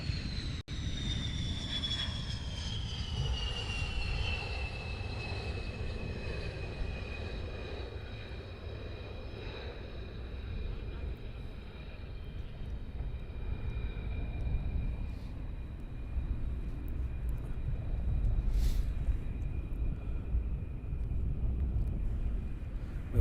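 Military jets on approach at RAF Lakenheath, a sustained loud roar with a high whining engine tone that slowly falls in pitch as the aircraft pass, continuing steadily with no talking.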